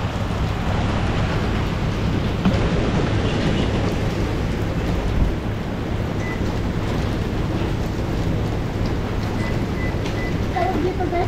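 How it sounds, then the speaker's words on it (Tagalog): Heavy, steady downpour in Oman with a dense hiss and rattle of hail striking surfaces, continuous and loud throughout with no pauses. "Hailstorm. Nag-hailstone pa na guys."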